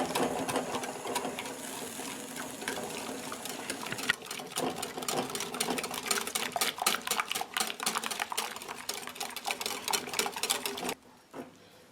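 Lemon and lime curd is stirred in a saucepan, a spoon scraping and clinking against the metal in quick, continuous strokes that grow busier midway, close and fairly loud, then stop abruptly near the end.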